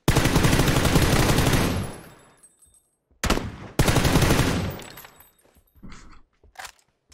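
Shotgun fire in Fortnite comes in two long, loud bursts of rapid shots separated by a brief pause, followed by a few scattered clanks and impacts.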